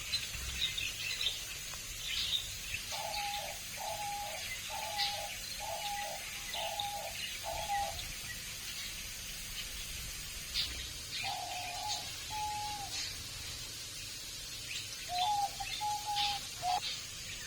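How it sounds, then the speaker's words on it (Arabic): Soft, repeated cooing of king pigeons in short rhythmic bursts, then a few more coos after a pause, with faint chirps and a steady background hum. "هاي حمام ملك"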